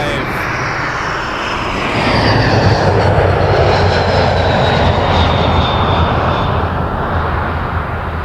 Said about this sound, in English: Jazz coming in from Newark, Embraer 175.